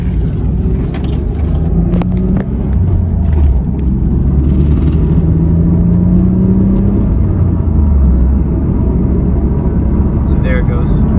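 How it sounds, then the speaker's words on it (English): Low droning road noise and rumble from a Mitsubishi 3000GT with a worn wheel bearing, heard from inside the moving car as a continuous loud hum with a faint whir. "It makes a lot of road noise."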